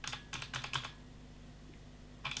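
Typing on a Razer Huntsman opto-mechanical keyboard: a quick run of crisp, clacky keystrokes up close, then a pause and another short burst of keys.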